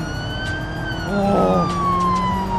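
A police siren in the driving game BeamNG.drive wails as one steady tone that slowly falls in pitch, over a rumbling engine, with a brief excited shout partway through.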